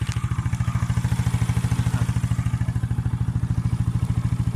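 A 2014 Honda Spark 115 Fi motorcycle engine idles close by with an even, rapid thumping pulse, steady and unbroken throughout.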